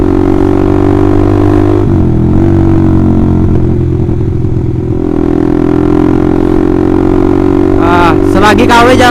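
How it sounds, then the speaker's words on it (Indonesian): A Honda CBR150R fitted with a loud aftermarket Austin Racing exhaust idles close by with a deep, steady drone, briefly dipping and recovering, then sharp revs at the end; someone talks over it. "Bacot banget nih suara knalpot nih."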